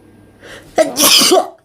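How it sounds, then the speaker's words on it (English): A single close sneeze: a short sharp intake, then a loud hissing burst of air that cuts off after about half a second. "Sneeze."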